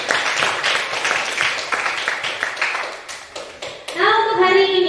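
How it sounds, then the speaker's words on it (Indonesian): Students in a classroom clap their hands for several seconds, a close, lively patter of many hands that thins out before a voice takes over. "tepuk tangan untuk kalian."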